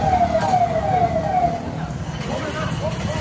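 A fire engine siren wails in a falling sweep that repeats, fairly close and loud, at the scene of a burning oil tanker at Phoenix Bay in Port Blair, with traffic and crowd noise underneath.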